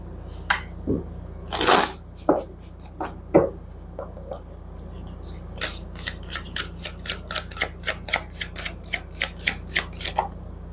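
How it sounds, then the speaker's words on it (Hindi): Oracle cards are shuffled by hand: scattered flicks and rustles at first, then a quick, even run of crisp card snaps, close and clear. "अब आपके ऑरेकल कार्ड्स देख लेते हैं"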